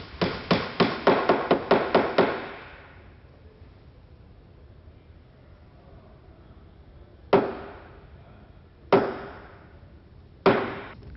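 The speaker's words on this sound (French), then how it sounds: "il chasse la tête des pointes afin qu'elles affleurent parfaitement." Hammer driving nail heads flush into wooden formwork boards for a window sill, a quick run of about a dozen sharp ringing blows followed by three separate strikes spaced apart, close and clear with no talk.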